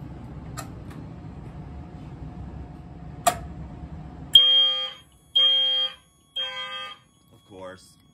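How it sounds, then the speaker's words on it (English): A security system alarm sounds during an alarm circuit test, with loud, steady electronic tones in repeated bursts separated by short gaps, following a quieter stretch with background hum and a couple of sharp clicks. "Now, let's test the alarm circuit."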